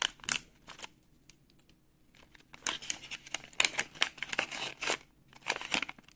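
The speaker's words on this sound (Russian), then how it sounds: "Сейчас давайте откроем этот пакетик и посмотрим." Paper surprise packet being torn open and unfolded, crisp tearing and crinkling in uneven bursts close up, with a quiet pause in the middle.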